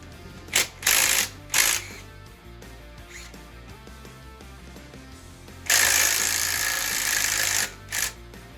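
Tools work the spark plugs out of a 5.3 LS V8 engine during teardown, with short bursts of ratcheting and clicking, then a longer buzzing run, separated by quiet pauses with faint workshop noise.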